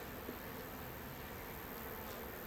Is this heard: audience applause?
no